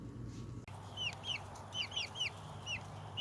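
Young chicks peep in repeated high, thin chirps close by, with soft clucking from chickens and a low steady hum underneath.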